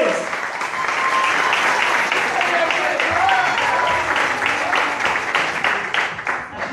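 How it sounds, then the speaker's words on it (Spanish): A crowd applauds steadily, dense clapping filling the room for several seconds with a few whoops mixed in. "pido un fuertísimo aplauso a ellos por la buena onda"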